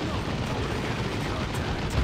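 The Foot of Gork stomp attack lands in Warhammer 40,000: Dawn of War 2, a dense, noisy crashing rumble of impact and debris that fills the clip, with battle sounds blending into it.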